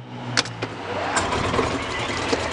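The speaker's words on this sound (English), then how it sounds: "there's a car coming right now" A car approaches and drives past with a steady, swelling engine and tyre rumble, fairly close, while the recording vehicle itself is pulling forward to park, with a few soft knocks and no talk.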